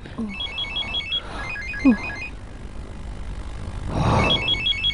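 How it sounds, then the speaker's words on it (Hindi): A telephone rings in repeated electronic trills, two bursts early and another near the end, with faint background noise between rings. "किसका फोन है नजीब?"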